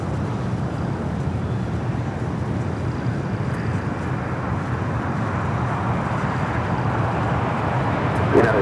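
Alaska Airlines Boeing 737-900ER on its takeoff roll from runway 25 right at LAX, bound for SFO: a steady, broad jet engine roar held at an even level for the whole stretch, distant and unbroken.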